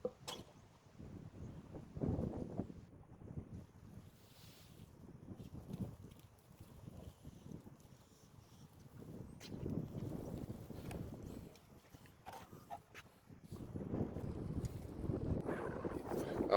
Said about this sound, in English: so the wind is picked up